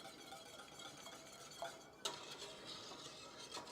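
A whisk stirs a thickening macaroni and cheese sauce in a pan, giving faint, steady scraping with a couple of sharper metallic taps. It is quiet and close, with no talking.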